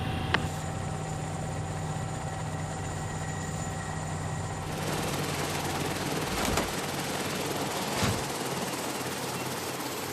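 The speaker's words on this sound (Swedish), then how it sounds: "Ja, landar framför helikoptern." A rescue helicopter carrying a medical team comes in to land, its steady engine whine giving way to a loud, broad rotor roar with a couple of brief thumps, continuous throughout.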